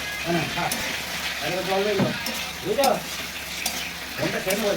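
Potatoes fry in a pan with spice paste while being stirred, a continuous sizzle broken by repeated scraping strokes of the spoon, with someone talking throughout.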